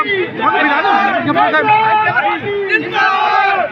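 A roadside crowd at a Congress party rally in Shakurpur ward 62 keeps up a dense, loud roar of shouting voices and chatter, close and continuous throughout.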